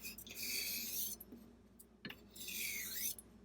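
A straight razor drawn across an abrasive honing stone during a bevel re-set, giving two close, steady rasping strokes with a brief tap between them, quiet and alone.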